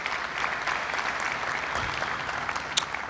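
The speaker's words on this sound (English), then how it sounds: "So give yourselves a round of applause there" Steady, dense applause from a large audience at a ceremony in Ohio Stadium, sustained and even for the whole stretch with no voices rising above it.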